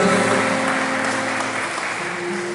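A church congregation claps together in worship, a dense, steady wash of many hands that stays loud for the whole short stretch.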